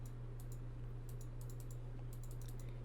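Computer mouse clicks captured on a FIFINE K678 USB microphone from about ten inches away: faint, crisp clicks in quick pairs and short bursts over a low steady hum, with no voices.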